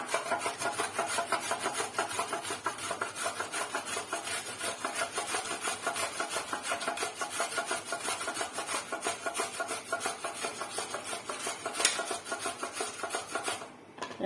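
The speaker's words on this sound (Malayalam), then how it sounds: "ഇനി നമുക്ക് ഈ ക്യാരറ്റ് നല്ല വൃത്തിയാക്കി കഴുകി അരിഞ്ഞുകൊണ്ട് വരാം" Steady rapid scraping and rasping of carrots being cut lengthwise with a knife, a dense rhythmic grating, continuous throughout with no voices.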